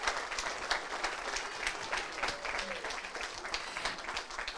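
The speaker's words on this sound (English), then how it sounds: "I think you guys should give Drew a round of applause." A church congregation at a Sunday worship service applauds, a fairly quiet, even patter of many hands clapping at a distance that carries on steadily for several seconds with faint voices beneath.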